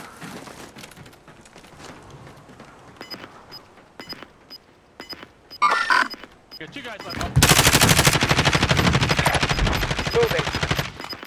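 Gunfire in the video game Call of Duty Modern Warfare from 2019: scattered shots at first, a loud burst near the middle, then a sustained loud automatic stream of rapid fire, with faint talk in the background.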